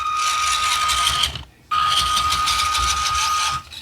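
A WPL C24 RC truck's electric motor whines loudly and steadily under proportional throttle, cutting out briefly mid-way before revving back up to a sustained high-pitched drone.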